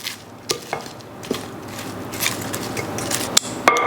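Crispy roasted Brussels sprouts with bacon and garlic are tossed in a pan with balsamic vinegar, giving scattered crackling and scraping clatters over a faint sizzle, with no talking.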